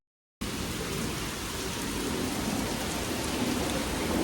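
Heavy rain falls outside during a night of partying, beginning abruptly as a dense, steady hiss of drops that continues unbroken and grows slightly louder.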